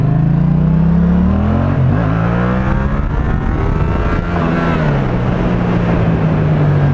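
A Yamaha MT-07 motorcycle pulls away in first gear, its loud, close engine note rising steadily in pitch, dipping briefly, then climbing again with a continuous rasping drone and no talk.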